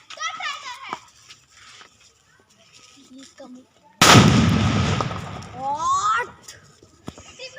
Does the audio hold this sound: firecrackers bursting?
yes